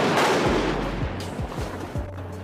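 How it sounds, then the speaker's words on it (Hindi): A lightning strike lands close by with a loud booming thunderclap, a heavy rumbling burst followed by several sharp cracking thuds over about two seconds. "पीछे एक धमाका हुआ और एक जोरदार बिजली इनके जस्ट बाजू में गिरी"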